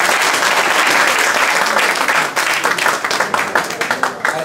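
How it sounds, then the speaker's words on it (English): An audience at a legends night event applauds loudly and steadily, then the sustained clapping thins into scattered individual claps. "Let's give a big round of applause."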